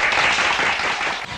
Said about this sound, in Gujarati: દશરથ ને તાળીઓથી વધારી લે પેલા